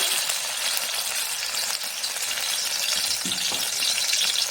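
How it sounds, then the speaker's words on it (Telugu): Crushed onion and garlic hit hot oil for a goat head masala curry, giving a loud, steady sizzle of frying that carries on without pause and without any talking. "ఇందులోకి దంచుకున్న ఎర్రగడ్డ తెల్లగడ్డలు కాల్చుకున్నాం కదా, ఇది దంచుకొని వేసేద్దాం."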